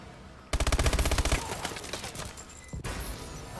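Rapid automatic gunfire in the shooter Call of Duty: Advanced Warfare, a fast burst of close, loud shots followed by scattered game sounds and another short burst.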